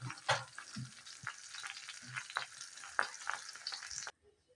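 Chicken pieces drop into hot butter and ghee and fry with a dense, steady sizzle, broken by a few sharper crackles and splashes, close and fairly loud until it cuts off near the end.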